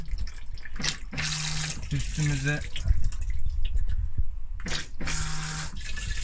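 Water gushes from a bidet tap on a Thetford cassette toilet in a Hobby caravan in short bursts, splashing into the bowl, with a person speaking briefly between the flows.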